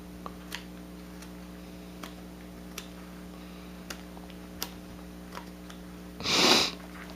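Brief nasal sniffle from a person with a slight cold while carving a wooden Santa ornament with a knife, one short burst near the end after a stretch of quiet with faint ticking clicks.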